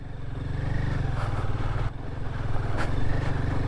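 A motorbike crawls slowly over rough mountain terrain on the route from Jumla to Rara, its engine chugging steadily and close by with uneven throttle, clattering and without a break.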